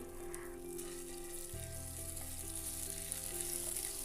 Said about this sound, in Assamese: আৰু এনেদৰে অকণমান টাইম ভাজিব যাতে কেঁচা কেঁচা ভাৱটো নোহোৱা হয়